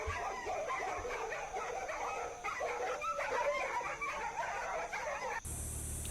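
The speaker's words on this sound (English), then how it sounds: "Other dogs are barking, threatening, but not scaring the hyena." Several dogs bark, yip and whimper in rapid, overlapping bursts at a hyena somewhere outdoors in the wild, heard at a moderate distance and not very loud.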